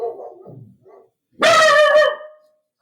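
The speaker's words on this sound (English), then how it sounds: "Y'all just get to hear all the dogs." Several dogs bark close by, a few short yips followed by one loud, drawn-out bark.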